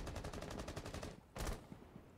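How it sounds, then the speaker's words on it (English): Faint gunfire in Rainbow Six Siege: a quick, even string of automatic shots, a brief pause, then one more short burst, all distant and quiet. "Solace is shooting me from where?"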